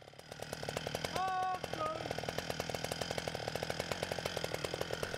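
Chainsaw sawing through the remaining wood of a tree being felled in a forest, a continuous close, rapid buzzing rattle with a brief pitch change as the cut bites, steady to the end.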